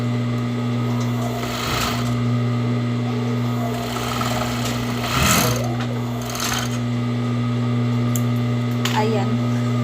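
A sewing machine stitches fabric for shorts with a steady mechanical hum and rapid needle rhythm, with someone talking over it and a few brief clicks.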